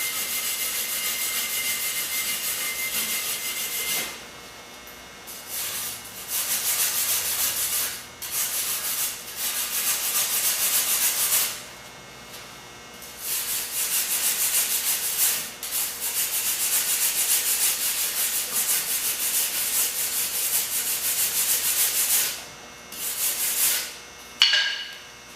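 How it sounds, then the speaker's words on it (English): A brush scrubs welding residue off metal welded with two car batteries, harsh close bristle scraping in long bursts separated by brief pauses. "I'll go ahead and use a brush to clean this stuff up"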